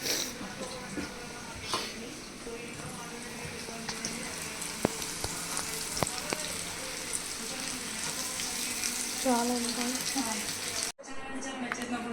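KFC style chicken lollipops deep-frying in hot oil, a continuous dense sizzle and bubbling up close, with a voice and background music over it, then a brief drop near the end.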